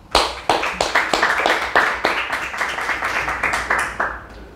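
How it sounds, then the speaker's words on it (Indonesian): A small audience claps in a quick, uneven rhythm, with distinct hand claps close by rather than a dense wash. The clapping dies away near the end, and no one speaks over it. "Tepuk tangan untuk Endra."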